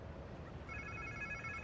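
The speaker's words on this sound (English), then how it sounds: "Sounds like somebody's phone." In the game Marvel's Spider-Man 2, a faint electronic phone ringtone starts partway through and trills steadily over a quiet, low ambient background.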